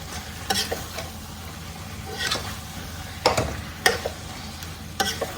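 A spatula stirring and mixing ingredients in a frying pan, scattered scraping strokes over a soft background sizzle.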